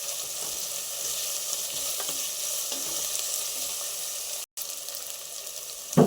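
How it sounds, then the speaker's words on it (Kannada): Onions frying in a pan for kushka rice, a steady close hiss and crackle of oil running throughout, briefly cutting out for an instant near the end. "ಈರುಳ್ಳಿ ಫ್ರೈ ಆಗ್ತಾ ಇದ್ದಂಗೆ"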